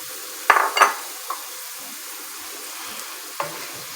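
Sliced onions and potatoes cooking together in a pan for a Spanish omelette: a low, quiet sizzle broken by a few sharp scrapes and clinks of a spoon against the pan, close up and without talk.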